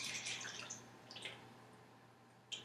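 Melted butter pours from a pot into a big bowl for brownies, a soft trickling, dripping liquid sound that fades after the first second, with a brief clink near the end.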